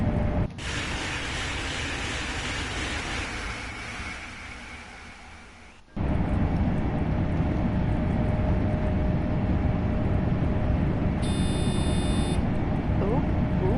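A short series of electronic warning beeps sounds in the cab of a DB Class 406 ICE 3M high-speed train on the Cologne–Aachen line in Train Sim World 3, heard briefly near the end over a loud, steady rolling rumble.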